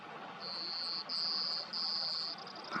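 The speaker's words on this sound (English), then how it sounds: "Here's a clay-colored sparrow. Its song is very distinct." A clay-colored sparrow's high, flat buzzing song repeats in three drawn-out insect-like buzzes, clear and fairly close against a quiet outdoor background.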